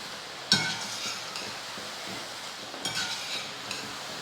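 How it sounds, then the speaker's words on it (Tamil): Gram flour batter frying in hot oil for motichoor laddu, a soft steady sizzle with a sharp clink of a utensil near the start and light scraping and stirring sounds later, close by and without talk. "இதே போல் எல்லாத்தையுமே பொரிச்சு எடுத்துருவோம். நல்லா கலர் மாறாமல் பொரிச்சு எடுத்துருங்க."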